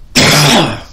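A person recovering from illness clears their throat with one loud, harsh cough close to the microphone that tails off quickly.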